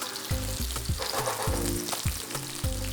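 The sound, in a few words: zucchini frying in hot oil in pan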